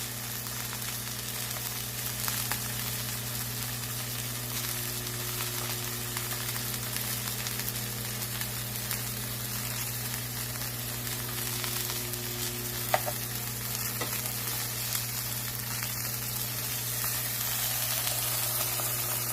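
A tuna steak sears in a pan on a stovetop set to 7, with a steady, even sizzle running the whole time under a faint background hum and one small click.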